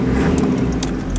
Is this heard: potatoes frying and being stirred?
no